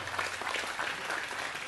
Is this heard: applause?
yes